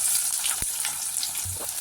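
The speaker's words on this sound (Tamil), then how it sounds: "கடுகு பருப்பு பொரியுது" A steady, bright crackling sizzle of mustard seeds and lentils frying in hot oil, with a few faint pops and a light clink of stirring.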